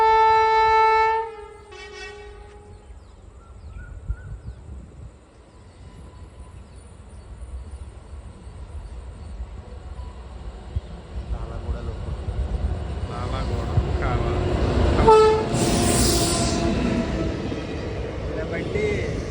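A train with ICF coaches passes on the railway line out of Visakhapatnam, heading to Rajahmundry. A tonal horn-like blast comes first, then a long rumbling roar that grows louder and nearer toward the end.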